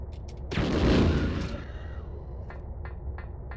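A single loud gunshot from the classic Resident Evil 2 video game bursts out and decays over about a second, followed by a few faint clicks in a quiet background.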